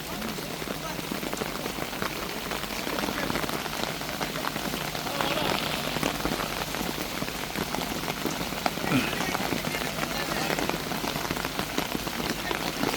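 Heavy rain pours steadily onto surfaces at a riverside army bridge construction site, a dense, even hiss of drops that goes on unbroken, with faint voices underneath.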